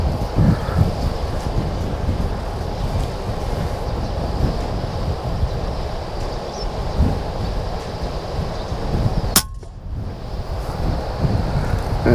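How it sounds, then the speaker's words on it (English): Strong gusting wind buffets the microphone outdoors during an airgun pest-control outing, a heavy continuous low roar with a brief sharp knock near the end and a short dip after it. "Yeah, the wind is hectic."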